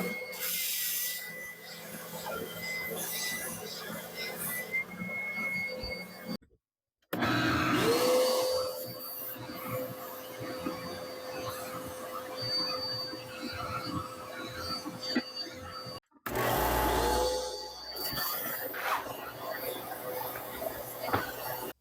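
Small-shop dust collection system running with a steady, loud rushing whoosh that cuts out briefly twice and restarts. A person talks over it.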